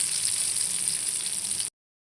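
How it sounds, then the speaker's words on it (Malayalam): Mackerel (ayala) fries in a pan with a steady, bright close sizzle that holds evenly, then cuts off suddenly. "പിന്നെ അയില നമ്മൾ വറുക്കാനിട്ടു"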